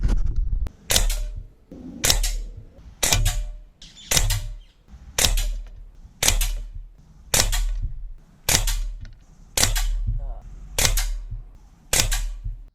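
An ASELKON MX10S 5.5mm air rifle fires a dozen sharp, evenly spaced shots about one second apart, each a crisp close crack with a short mechanical tail, no voices heard.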